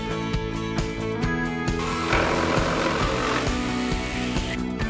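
Power sander working on wood while a teenager's attic bedroom is built, a loud steady motor drone with a rhythmic pulsing and a rougher grinding texture as it presses into the surface.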